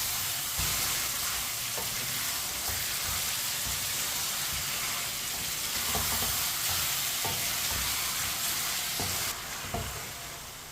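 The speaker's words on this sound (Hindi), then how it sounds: "चिकन को भी 4-5 मिनट के लिए इसी तरह फ्राई कर लेंगे" Chicken pieces frying and being stirred in a pan for a kadu chicken curry, a steady close sizzle throughout with occasional soft scraping knocks of a spoon, no talking.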